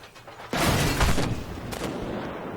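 Tank cannon fire in Armored Warfare, a Super Patton firing HEAT rounds: one loud, booming blast that hits hard and rumbles on, with a second fainter crack following shortly after.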